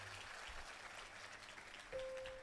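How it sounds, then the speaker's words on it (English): Audience applause for a children's stage performance at a school annual function, steady broadband clapping heard from a distance at a low level, with a sustained tone entering near the end. "Please give another big round of applause to them."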